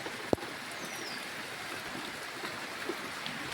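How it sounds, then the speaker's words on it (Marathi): Rain falls outdoors on a farm, a steady, even wash of patter with one sharp close tap near the start and no voices. "इथं ते पाऊस चालू आहे"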